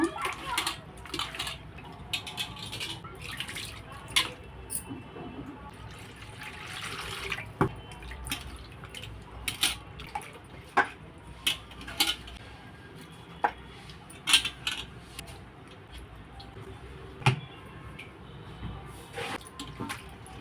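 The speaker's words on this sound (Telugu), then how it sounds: "మనకు మటన్ నీళ్ళు తెల్లగా వచ్చేదాకా మనం కడగాలి" Raw mutton pieces being washed in water in a home kitchen, with soft splashing, trickling and intermittent clinks and knocks of the meat and vessel, close and fairly quiet throughout.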